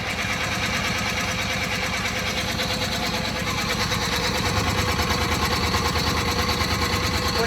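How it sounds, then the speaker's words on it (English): A 1970s Attex six-wheeler's engine being cranked without its fuel pump: a steady, rapid, buzzing whirr of the starter turning the engine over, close and loud, unbroken for several seconds and never catching. "crank it without the fuel pump for now"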